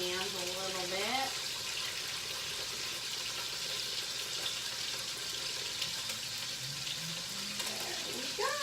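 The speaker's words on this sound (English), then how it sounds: "Gotta wash my hands a little bit." Water runs steadily from a kitchen tap as hands are washed beneath it, a continuous rushing spray for the whole stretch with faint tonal sounds, like a voice or music, drifting in the background.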